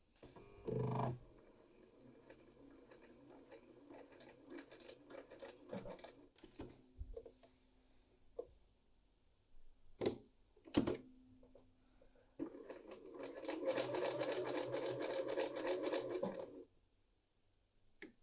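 A home sewing machine stitches the top seam of a godet on a gorgeous godet top, running in short bursts near the start and middle, then in a steady longer run toward the end, with pauses between.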